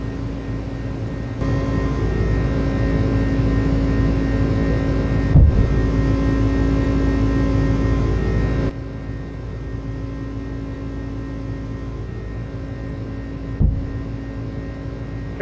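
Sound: UPS A300F engines during takeoff in Microsoft Flight Simulator video game

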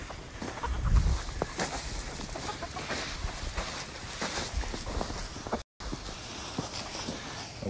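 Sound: chickens scratching and clucking in a paddock

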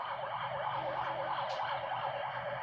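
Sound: ambulance siren on a busy road

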